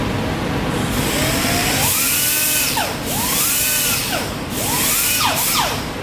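Pneumatic air grinder, loud and close, with a high whine that dips and climbs again three times as the air valve is eased and reopened, with no talk over it.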